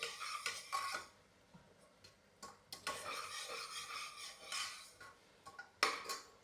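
A utensil stirs and scrapes dal as it roasts in a pan, giving close, intermittent metallic scraping bursts with short quiet gaps and no talking.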